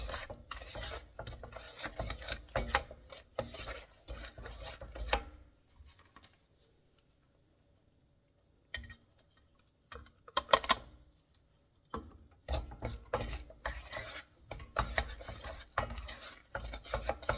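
Cake batter being mixed with flour in a bowl gives close, scraping and rasping strokes in quick repeated bursts, with a pause of near-silence midway before the rhythmic stirring resumes.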